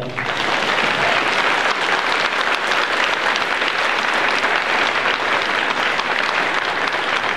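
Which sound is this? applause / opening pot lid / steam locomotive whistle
applause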